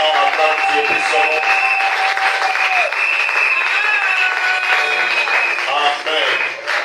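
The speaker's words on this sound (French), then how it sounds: "acclame le Seigneur royalement, acclame Dieu puissant." A church congregation applauds loudly and continuously, a thick wall of clapping mixed with shouts and cheers, while sustained tones ring over the crowd.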